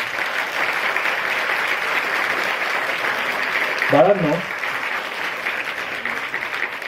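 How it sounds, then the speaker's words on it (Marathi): A school audience at a founders' day event gives loud, sustained applause that fills the whole stretch, with one brief spoken call partway through. "जोरदार सर्वांनी टाळ्या वाजवायच्या."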